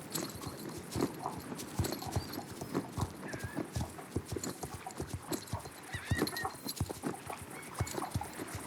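Horse hooves trotting in a steady clip-clop rhythm in the Star Stable video game, with a couple of brief whinnies partway through over soft outdoor ambience.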